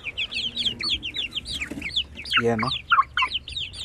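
Young Shamo Aseel chicks chirp and cheep busily up close in rapid overlapping peeps, with a brief hoarse squawk in the middle and a short spoken phrase underneath.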